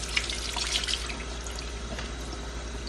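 Water runs from a tap into a sink while a bottle is washed, a continuous splashing stream with small drips and clinks riding on top, close by and with no talk.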